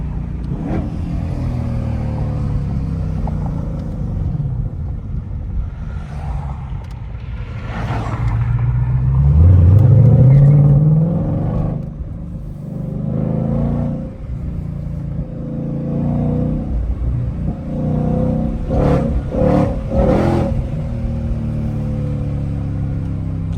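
A Shelby GT500 V8 rumbling at low speed on a city street, swelling into a brief rev around a downshift before settling back to a deep idle-like drone with engine pulses.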